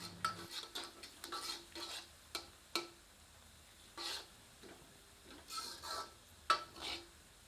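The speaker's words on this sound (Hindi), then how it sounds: "आंच को मध्यम कर लेते हैं और प्याज को तब तक भूनते हैं जब तक कि प्याज सुनहरे रंग में परिवर्तित नहीं हो जाती।" Onions and whole red chilies frying in a pan over medium heat, stirred with a utensil: a soft sizzle runs beneath repeated scraping strokes and light metallic clinks, close and fairly quiet, with no talking.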